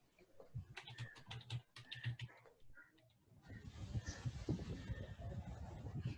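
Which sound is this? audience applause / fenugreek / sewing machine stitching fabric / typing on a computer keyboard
typing on a computer keyboard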